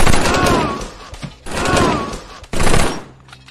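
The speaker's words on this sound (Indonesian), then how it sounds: "Letnan Jack pun sangat marah dan langsung menembaknya." Sharp bursts of gunfire in a war film scene where a lieutenant shoots a hidden German soldier behind a tree, three loud volleys separated by short pauses, with ringing tails and rumbling mixed behind them.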